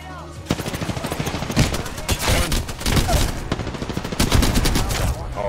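Rapid bursts of light machine gun fire rattle through an Apex Legends firefight, near and loud, overlapping volleys continuing almost without pause.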